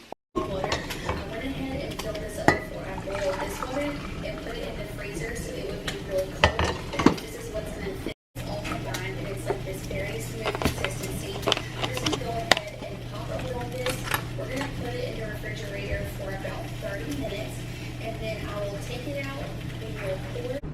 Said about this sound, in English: So I'm just gonna continue to make my bacon and eggs